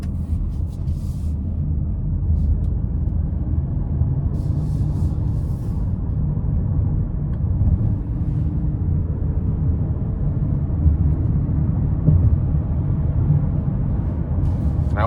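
A 2026 Nissan Rogue Dark Armor AWD in sport mode gives a steady, low engine drone and road rumble from inside the cabin that builds gently as it pulls out of a corner, with no talk over it.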